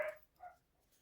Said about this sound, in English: Dogs are happy this morning.